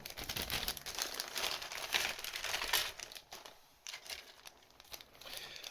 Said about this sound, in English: Just snip them open, it'll be easy to snip them open and have a look.